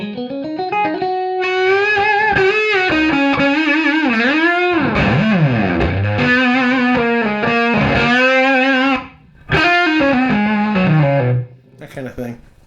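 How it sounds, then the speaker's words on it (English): An electric guitar plays through a Dunlop Hendrix Fuzz Face pedal, starting clean and jumping into thick distorted fuzz, with bending, wailing notes and bold sustained phrases, loud and close, ending with a brief pause and a final burst. "he kind of ramps up with the clean sound and immediately blows into the fuzz"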